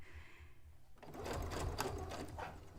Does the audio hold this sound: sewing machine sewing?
yes